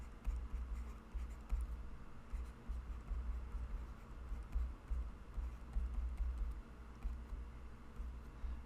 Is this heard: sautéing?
no